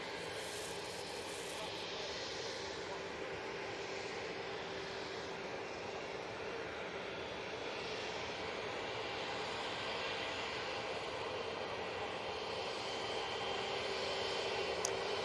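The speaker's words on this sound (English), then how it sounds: "EasyJet now coming on." An EasyJet jet airliner departs Manchester Airport, its engine noise a faint, distant, steady rumble that builds slightly toward the end.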